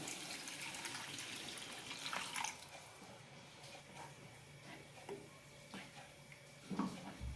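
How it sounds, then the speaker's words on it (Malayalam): Water poured into roasted masala for a green peas gravy, a faint steady trickling wash of liquid running for several seconds, with a couple of light knocks of the vessel. "മസാല നന്നായി റോസ്റ്റ് ആയിട്ടുണ്ട് ഇനി ഇതിലേക്ക് വെള്ളം ഒഴിക്കാം"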